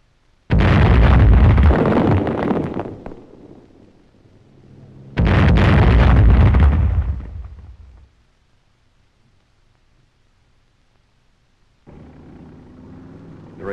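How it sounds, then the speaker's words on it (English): A roadblock mined with German mines is blown up in wartime combat footage. Two loud, booming blasts arrive a few seconds apart, each with a long rumbling decay, followed by a quieter, lower rumble. "Again, German mines in the road lend their force to the explosion."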